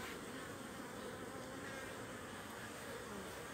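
Bees buzz steadily around the entrance of a hive, a continuous soft, dense hum of many insects at moderate distance with no talking.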